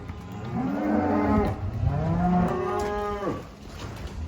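Cattle moo loudly and close, with long drawn-out calls from cows on a hill farm being weaned from their calves, several overlapping moos filling the clip with no talking.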